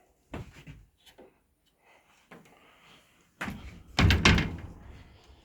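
A repaired wooden door in a rural home is handled and shut: scattered light knocks and scrapes, then a heavier thunk and a loud, close closing bang near the end.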